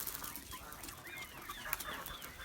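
A flock of young hens, including Brakel and naked-neck breeds, clucks continuously at close range, with busy overlapping calls and no voices.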